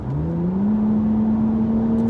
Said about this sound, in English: that's some pretty good noise,